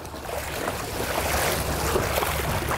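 A pedal-powered water bike rides over choppy waves on San Francisco Bay, with steady splashing and sloshing water under a constant rush of wind, moderately loud and continuous throughout.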